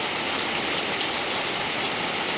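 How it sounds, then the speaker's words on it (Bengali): Heavy rain pours down steadily in a dense, continuous hiss, loud and unbroken throughout with no voices. "দেখতে পাচ্ছেন প্রচুর হারে বৃষ্টি হচ্ছে মুসলধারা বৃষ্টি"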